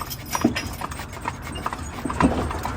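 Hooves of young horses clip-clop at a steady walk on an outdoor ride, a continuous rhythmic patter over a background of wind and movement noise.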